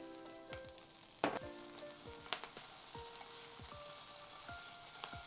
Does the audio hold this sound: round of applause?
no